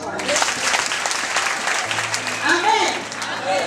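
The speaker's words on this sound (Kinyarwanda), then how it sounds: "Tukomera amashyi." Applause from a church congregation, a dense wash of clapping hands that stays steady and fairly close throughout, with voices and murmurs mixed in beneath it.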